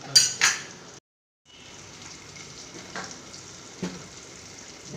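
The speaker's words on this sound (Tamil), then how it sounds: "குழம்பு நல்லா கொதிச்சுக்கிட்டு இன்னும் கொஞ்சம் கொதிக்கணும்" Kuzhambu curry boils in a pot with a soft, steady bubbling hiss, briefly cut off and then resuming, with a few faint clinks near the start and later on.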